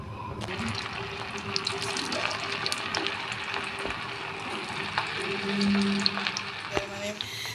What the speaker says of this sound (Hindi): देखें, इसको हमने इसमें डाला है तेल में फ्राई करने के लिए।